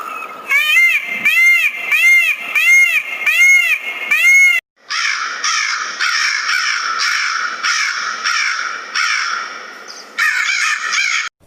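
A crow gives a loud run of harsh, repeated caws in two bursts, the second more rapid and strained, with no voices alongside.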